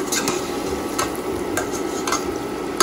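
Cauliflower pieces coated in batter fry in hot oil with a continuous close sizzle, punctuated by a few light clicks of a utensil, no speech.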